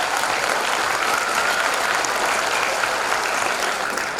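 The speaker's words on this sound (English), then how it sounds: "So please give them a big round of applause." A school audience at an English Week celebration applauds steadily, a dense and even wash of clapping from a large crowd that continues for the whole stretch.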